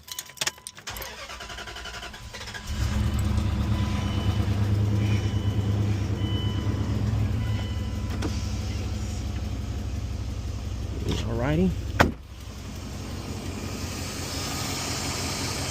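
A 1997-2004 Dodge Dakota cranks briefly, catches and settles into a steady, even idle, with a short squeal and clunk late on; a voice speaks briefly at the start.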